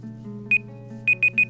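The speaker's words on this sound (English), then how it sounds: "Oh, there's our timer." A timer goes off with four short, bright electronic beeps: one alone, then three in quick succession, sounding clearly above a steady low background drone.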